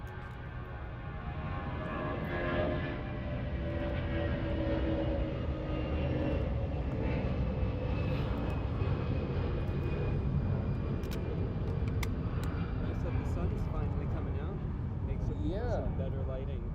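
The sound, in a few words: Delta Airbus A330-900 arriving at LAX from Tokyo Haneda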